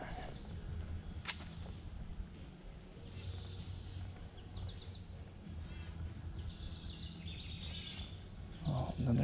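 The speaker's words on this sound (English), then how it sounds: "there's some birds that want to be louder than the music" Birds calling in a swampy area near bridges and water, faint distant caws and chirps scattered over a low outdoor rumble, with distant music underneath.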